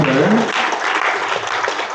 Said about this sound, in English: Give him a round of applause for his first ever